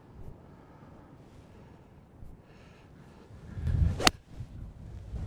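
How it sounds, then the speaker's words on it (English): Wind gusts across the Jack's Point golf course, rumbling low against the microphone and swelling toward the end, with a single sharp crack near the close. "I'm gonna let the wind take it."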